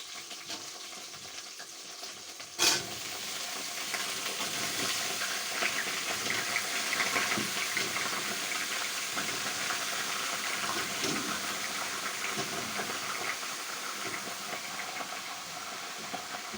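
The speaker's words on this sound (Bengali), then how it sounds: "এখন আমি আলুটাও ভাজা বসিয়ে দিচ্ছি" Potatoes frying in mustard oil in a pan, a steady soft sizzle and hiss running throughout after a brief knock near the start, faint and continuous with no talking.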